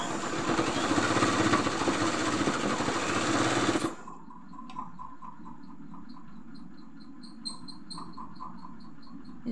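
A sewing machine stitches a cord in a loud, fast, continuous whirring burst for about four seconds, then stops, leaving quiet scattered clicks and light handling noises.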